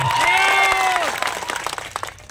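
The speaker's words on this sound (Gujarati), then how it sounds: "ત્યારે સૌ માટે એકવાર જોરદાર તાળીઓ પણ લે।" Crowd at a political speech event in a Gujarat village breaking into applause, a dense wash of clapping that swells, then thins into scattered claps as it fades over a couple of seconds.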